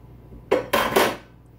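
Nuts dropped into banana bread batter in a bowl, two or three quick clattering bursts against the bowl, close and brief, with no talk.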